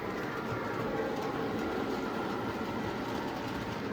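An MTH PS3 model train locomotive runs with a steady, dense rumble and rail hiss that continues at an even level throughout, close by and without speech.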